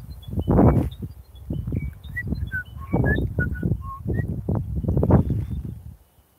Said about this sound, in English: It's a pretty little bird just up here.